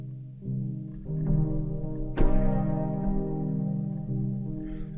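A soft synth patch, PD Fond Dreams, played gently at low velocity in FL Studio, with smooth sustained tonal notes layering and shifting over several seconds, one brighter attack near the middle, quiet and with no talk.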